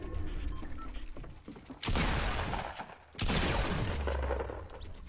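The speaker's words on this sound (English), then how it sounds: "So somebody's sniping over here." Two sharp, loud sniper rifle shots from a Fortnite Battle Royale match, each a sudden crack that rings out and decays over about a second, with quieter game noise in between.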